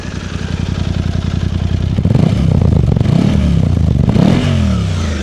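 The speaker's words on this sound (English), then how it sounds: "Let me give you the rev test, the sound test of the bike as well" A Suzuki V-Strom 800 on its stock exhaust revs up from idle, a loud, close throbbing twin-cylinder note that climbs in pitch and holds, then drops back, with some mechanical clatter.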